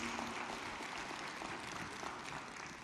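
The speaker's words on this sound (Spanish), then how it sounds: "Dele ese aplauso a Él, porque Él se lo merece." A church congregation claps steadily, a dense wash of applause sustained at even volume throughout.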